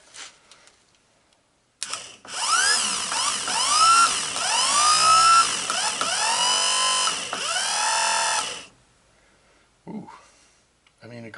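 A rebuilt Honda ATC 200ES Big Red starter motor, powered on a bench, whirs loudly for about seven seconds with a rising and falling whine, then cuts off, followed by a short faint buzz.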